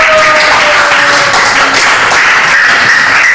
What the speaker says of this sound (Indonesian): Tepuk tangan untuk Ishak dan Batu.